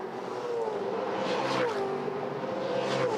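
A V8 touring car at the 2013 Clipsal 500 in Adelaide screams past on the street circuit, its engine note sweeping down as it approaches and passes, with more cars roaring behind, loud and continuous.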